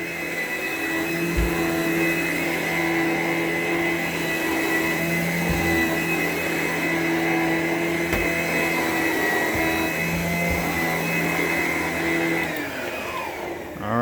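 A vacuum cleaner running over carpet with a steady, loud motor whine and airflow hiss, its pitch shifting slightly as it is pushed along, then winding down at the end.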